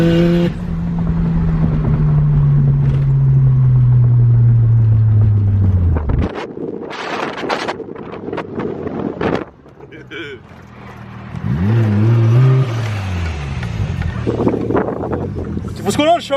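A car engine drones loudly and closely, then drops away, followed by bursts of wind buffeting and another engine surge as a car drives past, with people talking at points.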